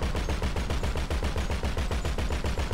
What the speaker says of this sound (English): shoot at his yacht.